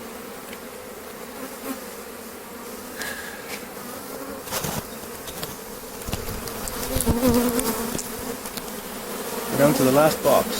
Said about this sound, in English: Lots of bees. It's a strong colony.